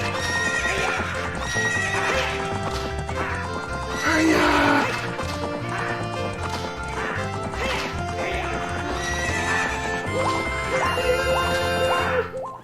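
A horse whinnies amid busy game-like music and effects in The Legend of Zelda: Ocarina of Time, with clopping hooves and a crash partway through.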